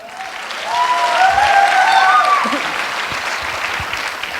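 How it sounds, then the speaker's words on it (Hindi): Loud audience applause swells at a wellness company event, a thick crowd of clapping rising quickly and holding steady, with a few voices and cheers riding over it. "सबसे ज्यादा तो धन्यवाद और तालियां दो इस मैडम को"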